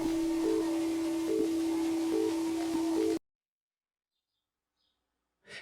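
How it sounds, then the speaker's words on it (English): Birds sing outside a small one-bedroom apartment in San Diego, short chirps repeating at a regular pace over a steady hum, before the sound cuts to near silence. "I'm sure you could hear the birds in the background because I record this in my little one-bedroom apartment"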